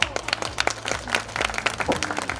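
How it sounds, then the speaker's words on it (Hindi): People at a community gathering in a self-study centre and library clap in a close, lively burst of applause with uneven individual claps and a faint underlying hum. "इनके लिए बहुत बहुत तालियां हो"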